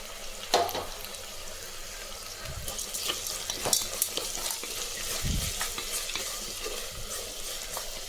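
Onion, curry leaves and garlic fry in a pan with chili powder and salt, giving a constant soft sizzle broken by stirring scrapes and a few sharp spoon knocks against the pan.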